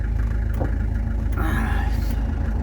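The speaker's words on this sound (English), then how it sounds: "Oh, a car coming." A car approaches along a road, a rising mid-pitched engine rumble with a brief whoosh as it draws near, heard over steady low background noise.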